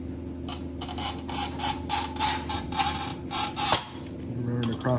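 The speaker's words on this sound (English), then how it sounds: "Just bring this little scoring wheel down on the glaze." Manual tile cutter's scoring wheel dragged across the glaze of ceramic subway tile, giving a close, gritty rasp in a rapid ratcheting series of strokes, followed by a short sharp snap.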